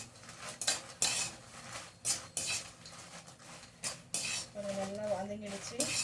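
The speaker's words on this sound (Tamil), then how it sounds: "இங்கே பாருங்கள் நல்லா ஃப்ரை ஆகுது" Red chilies frying in oil in a pan for bisibela bath powder, with repeated metallic clinks and scrapes of a utensil stirring against the pan and a faint sizzle underneath.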